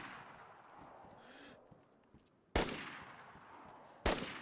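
Two sharp, loud 7.62 rifle shots in the video game DayZ, spaced about a second and a half apart, each cracking out over quieter outdoor ambience with a short decaying tail.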